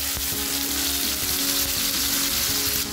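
Onions and tomatoes fry for Chettinad chicken, a dense, loud continuous sizzle with light rhythmic stirring clinks underneath, and no voices.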